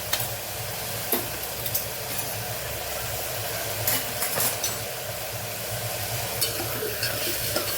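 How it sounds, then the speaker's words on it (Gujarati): Mung beans sautéing in a pan with red chilli powder and turmeric: a steady low sizzle with scraping stirs and occasional soft clatters of a spoon, no voices. "મગને સરસ આપણે સાતડી લેશું"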